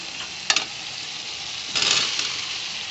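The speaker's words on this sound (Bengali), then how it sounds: "দেখো মশলাটা কষানো হয়ে গেছে, মশলা দিয়ে তেলটাও ছেড়ে দিয়েছে।" Spice paste with tomatoes fries in oil in a pan, a steady low sizzle running throughout, with two brief louder bursts of stirring and scraping, one short and one longer, close and without talk.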